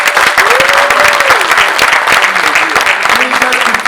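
Sustained applause from an audience at an awards ceremony for a municipal assembly's league table placing, dense and loud throughout, while a voice talks over the clapping.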